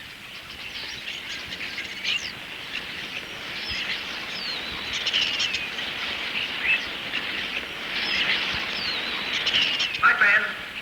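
A dense flock of starlings chatters and whistles continuously, a busy high-pitched din of overlapping calls played as a comedy radio sound effect, steady and fairly loud throughout.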